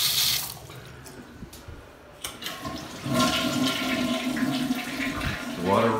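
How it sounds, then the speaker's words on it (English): Water runs from an old bathroom sink faucet with 1990s gold fixtures, starting with a few soft knocks, then a steady splashing stream that grows louder and continues to the end. "The water runs, it's got old fixtures."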